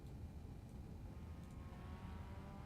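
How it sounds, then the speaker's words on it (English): Race car engine in the iRacing sim, a steady broadband drone with slight rising whine toward the end, continuous and fairly faint, no talking. "the audio's just a little weak on the engine noise in the game volume"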